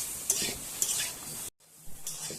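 Pieces of elephant foot yam frying in an oil pan, a close hissing sizzle with sharp stirring scrapes, briefly cutting out before resuming.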